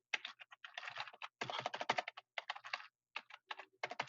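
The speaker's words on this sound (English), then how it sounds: "so you type your title in here" Rapid bursts of typing on a computer keyboard, close and clear, with irregular rhythm and short pauses between clusters of keystrokes, no talking.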